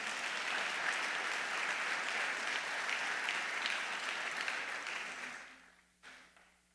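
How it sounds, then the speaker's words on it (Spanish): A church congregation applauds during a sermon, a full steady wave of clapping that holds for about five seconds, then fades quickly into near silence with a last few stray claps. "Dale un aplauso al Señor fuerte."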